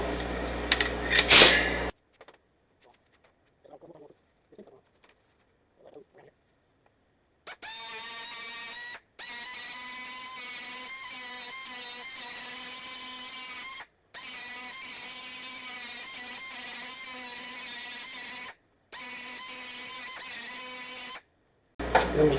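A handheld rotary tool grinds away at plastic in long steady bursts, with a constant whining buzz stopping and restarting several times after a brief loud knock at the start and some quiet handling.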